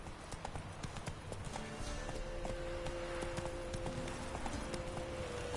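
Horse hooves clip-clop steadily through a Witcher 3 Death March playthrough, a continuous walking-to-galloping rhythm that is fairly faint and sits over a constant game ambience with a sustained tonal hum.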